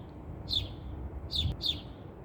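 Small birds near a nest in a grassy garden give three short, sharp chirps, faint and slightly distant over a low background hum.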